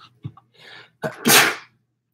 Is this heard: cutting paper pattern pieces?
no